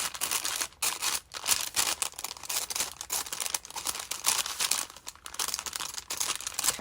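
Scissors snip through fast food packaging in a steady run of crisp cuts and crinkling, close and fairly quiet, with brief pauses between strokes.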